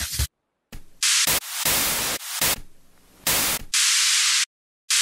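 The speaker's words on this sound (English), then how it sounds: "Let's add some white noise as well. I always use white noise in my drops." Bursts of loud white noise hiss, used as a sweep in a club music drop, switch on and off in choppy chunks, some bright and thin, others fuller, with silent gaps between.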